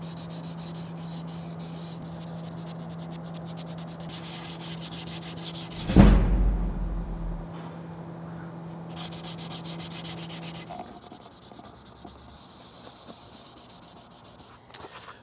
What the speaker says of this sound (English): That is the first round of sanding all done.